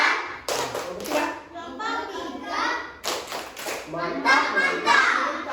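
Schoolchildren in a classroom clap a rhythmic group cheer, with bursts of sharp claps and thumps mixed with kids' voices and a teacher talking over them.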